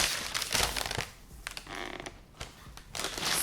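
Paper wrapping crinkling and rustling while a pair of Nike Air Force 1 High Utility 2.0 sneakers is unboxed, in several soft bursts of crisp crackle close to the microphone with short quiet gaps between.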